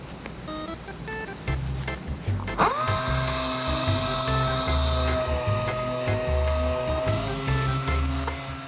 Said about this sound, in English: We're just gonna hit it with 320 grit on a DA.